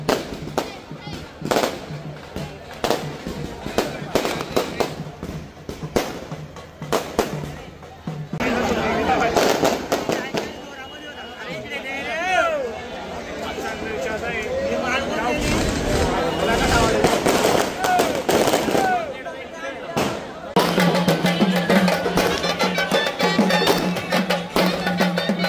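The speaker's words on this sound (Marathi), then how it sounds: "काही काही तर खालीच फुटून जातं फटाके." Firecrackers bursting at a Shree Ram Rath Utsav procession in Jalgaon, dense crackling volleys and sharp pops running through most of the stretch amid a noisy outdoor crowd, some bursts close and loud.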